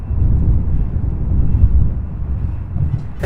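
A UPS MD-11 heavy freighter taking off, a loud, steady low rumble of jet engine thrust with gusting wind buffeting, sustained and near for the whole stretch.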